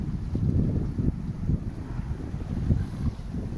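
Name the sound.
sailboat under sail on a broad reach, wind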